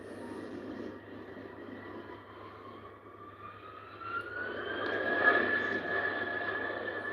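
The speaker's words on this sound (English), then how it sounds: "It's a 319, Airbus A319" An Airbus A319 jet operated by British Airways takes off at Heathrow, a steady roar that slowly builds and rises in pitch as it draws nearer and grows louder toward the end.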